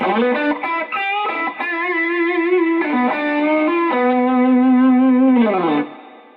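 Electric guitar driven through a high-gain Tube Screamer overdrive pedal, heard alone and loud: sustained, thick distorted chords and bends with a brief gap, ending in a downward slide and fade.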